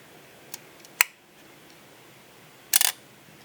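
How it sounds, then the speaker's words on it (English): Shutter and mirror lock-up of a Nikkormat FTN film SLR camera: a small click, then a sharp mechanical snap, and after a pause a brief rattling burst of several close clicks, all near and crisp against a quiet background. "you can lock that mirror up so quickly and easily before you take your shot"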